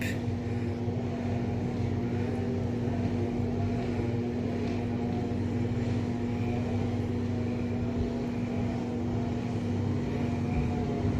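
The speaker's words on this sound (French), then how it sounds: "Ça filtre malgré que ça passe par le filtre de la piscine." An Intex pool filter pump runs steadily throughout, a continuous motor hum with a strong constant tone and no talk over it.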